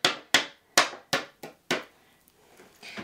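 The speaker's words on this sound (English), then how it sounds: "I'm going to give that a nice flick just to take off the excess." Six sharp flicks of a card panel to knock off excess embossing powder, each a crisp slap with a quick fading tail, spaced about every third of a second before the last one, then quiet handling noises.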